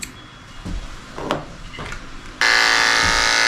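Electric dog clippers fitted with a 30 blade run on a senior Shih Tzu during grooming, a steady close buzz that cuts in loudly partway through after softer handling noises.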